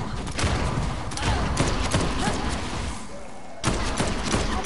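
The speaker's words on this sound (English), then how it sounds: "The shotgun ain't doing nothing." A shotgun fires in Dead Island 2 amid combat, with several sharp, loud blasts spaced irregularly over a dense, noisy game-action background.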